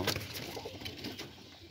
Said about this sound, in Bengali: আমি ঘুম থেকে উঠে আমার কবুতরের খোপের কাছে আসলাম